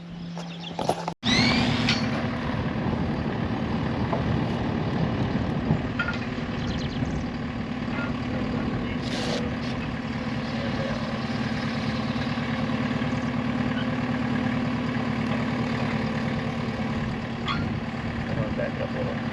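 A telehandler engine runs steadily while lifting a barndominium sidewall on a 36 by 80 by 19 foot build, a constant low idling drone throughout with occasional faint knocks and voices talking over it.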